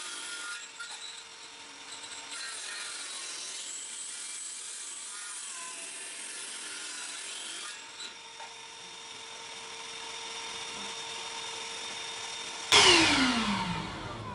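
A saw cuts through a wooden board, mostly a steady whining, grinding drone that shifts pitch slightly over many seconds, then a sudden louder burst of sharp cutting near the end.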